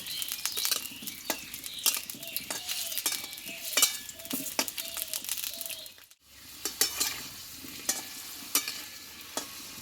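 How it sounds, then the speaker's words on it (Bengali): Potato pieces fry in hot oil in a pan while being stirred, giving a soft continuous sizzle broken by scraping clicks of a spoon against the pan and one brief pause partway through. "আলুটাকে একটু তেলে কষে নেবো আগে।"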